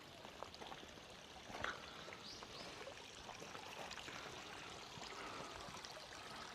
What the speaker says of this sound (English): the bamboo is used to make falling water sounds with it